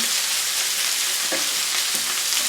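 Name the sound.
ginger and garlic frying and being stirred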